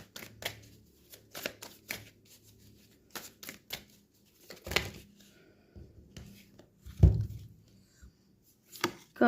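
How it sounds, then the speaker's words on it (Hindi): Tarot cards being shuffled and drawn, with soft papery riffles, slaps and taps in irregular bursts separated by quiet gaps, close by and fairly faint. "पहले मैं कार्ड्स निकाल लेती हूँ।"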